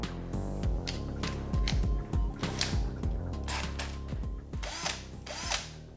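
A drill turns an outer reamer clockwise with cutting oil during transmission cross member work. The drill whirs in short bursts, with grinding and scraping metal-cutting sounds close by.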